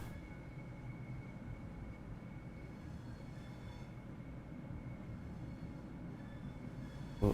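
Class 465 Networker electric multiple unit in Train Sim World 2, Southeastern high-speed line: a steady low rumble and drone of the train running, continuous and fairly close, with a brief knock at the very end.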